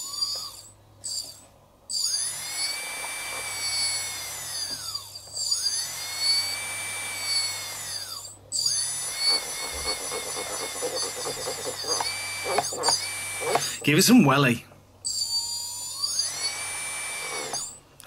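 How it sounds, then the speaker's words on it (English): A small brushless motor salvaged from an old drone whines up repeatedly in long rising and falling bursts with brief ratcheting stutters, loud and close, with a voice speaking briefly. "We now have a motor. This is off that old drone."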